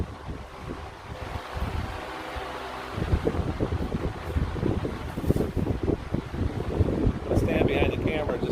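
A Ventisol high velocity wall mount fan blows with a loud, continuous windy rush, close to the microphone, growing stronger partway through, with wind buffeting and a voice speaking over it.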